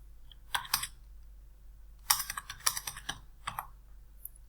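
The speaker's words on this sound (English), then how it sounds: "type the reference number." Computer keyboard typing in quick bursts of close, crisp keystrokes separated by short pauses while entering a reference number into accounting software, over a faint low hum.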